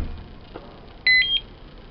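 A quick pair of short electronic beeps from an Intelbras FR101 digital door lock keypad, clear and close, following a faint tap.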